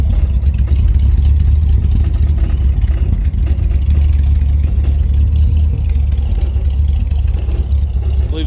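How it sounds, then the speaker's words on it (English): A 1964 Ford Galaxie 500 convertible's exhaust idles with a deep, steady rumble, low and even throughout, with a faint clattery texture and no revving. "But you hear the exhaust from back here. She sounds good."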